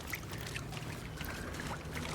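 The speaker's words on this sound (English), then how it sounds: "I think it's a river you hear." Steady rushing and trickling water of a river in the Hellblade 2 video game, a continuous wash of flowing water with a low rumble underneath, carried evenly throughout.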